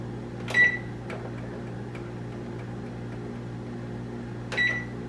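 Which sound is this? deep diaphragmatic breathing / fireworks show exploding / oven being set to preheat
oven being set to preheat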